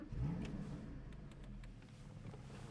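A 2015 Porsche Cayman GT4 pulls away under way with a muffled engine note that rises briefly at first, then settles into a steady, faint drive over road rumble.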